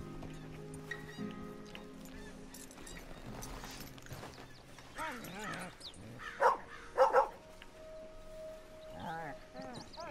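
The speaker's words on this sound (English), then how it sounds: "Hi, doggy." A dog in Red Dead Redemption 2 gives a few short, sharp barks in a quick cluster midway, set against game ambience and music, with a voice talking nearby.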